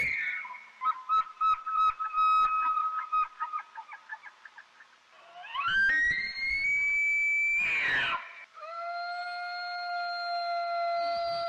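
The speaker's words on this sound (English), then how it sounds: "Here's what a normal elk would sound like." An elk calls up close: a run of short chirping grunts, then a rising, whistling bugle with a squealing break, ending in a long sustained high tone.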